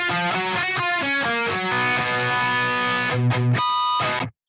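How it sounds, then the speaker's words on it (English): Heavily distorted metal guitar runs through an amp 2, cab 4 simulator on a mid-heavy tone, playing a chugging riff of quick palm-muted notes into sustained chords, loud and dense with no EQ. "guitars, very much like the bass, there's different gain versions of the guitars"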